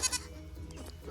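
A baby goat bleats in a short, thin, wavering cry close by, with no talk.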